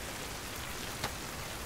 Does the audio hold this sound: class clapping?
no